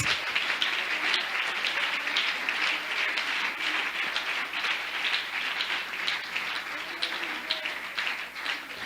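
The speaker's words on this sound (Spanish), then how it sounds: "Dele un aplauso al Señor Jesús." A church congregation at a Spanish-language service applauds for Jesus, a steady dense wash of many hands clapping at a moderate distance, running without break and mixed with a faint murmur of voices.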